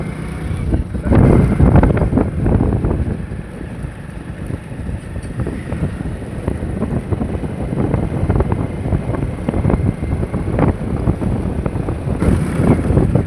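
Engine of a moving tractor rumbles steadily in a field, heard from aboard. The continuous, close rumble is mixed with heavy wind buffeting the microphone.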